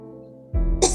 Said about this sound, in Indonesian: Batuk-batuk mulu nih aku.